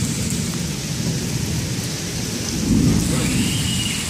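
Heavy rain pours down steadily in a storm, and a deep roll of thunder swells about midway through the constant hiss.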